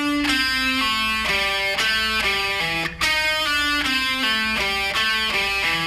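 Electric guitar with distortion plays a slow descending pentatonic run in a rock lesson: a dozen or so sustained single notes stepping steadily downward, close and clear, with a brief pause midway and no talking.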